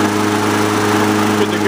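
A Honda HR214 walk-behind lawn mower runs with its blade brake engaged, giving a steady mid-pitched engine drone that is loud and close, with a voice talking over it.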